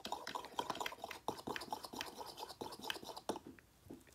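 A small tool stirs and scrapes highlighter color in a palette, producing fast, close, crisp scratching and tapping that runs continuously.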